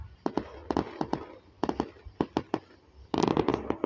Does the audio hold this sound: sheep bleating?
no